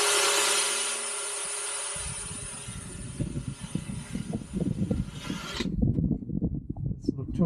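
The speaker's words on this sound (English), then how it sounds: "Just need to get a drill through there." A power drill with a blunt bit grinds against a van body panel while fitting a diesel heater, a harsh steady whir at first, then uneven scraping and rubbing as the bit skids without biting in.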